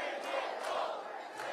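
A big crowd at a Canadian political rally roars and cheers, a steady wash of voices with shouts rising over it, loud and sustained throughout.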